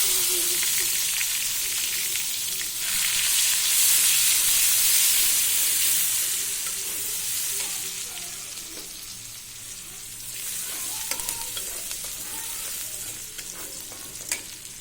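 Onions frying in oil while being stirred in a pan, a continuous strong sizzle with scraping stirs, easing a little partway through before swelling again.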